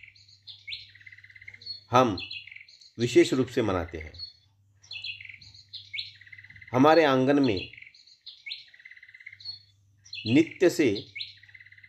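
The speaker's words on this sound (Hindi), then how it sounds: "यह चिड़िया अपनी चहचहाट लगाती है" House sparrows chirp repeatedly and close by in a home courtyard, in short bright bursts, while someone speaks in Hindi over them.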